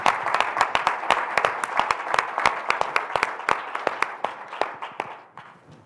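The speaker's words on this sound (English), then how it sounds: "Can we give a round of applause" Claps from a modest audience at a talk introducing a climate justice and sustainability hub, distinct and fairly close, a loose round of individual claps that thins out near the end.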